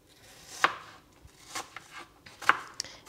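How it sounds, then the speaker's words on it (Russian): A knife slices apples for a pancake filling, giving a few sharp, separate chops spaced irregularly across a quiet kitchen with no voices. "Итак, все, мы нарезали яблоки."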